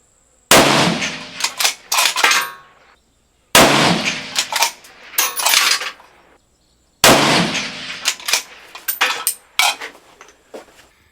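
Rifle shots fired at a range with a barrel tuner and Hornady ammunition, three separate strings of sharp cracks, each followed by ringing, loud and close with silent gaps between.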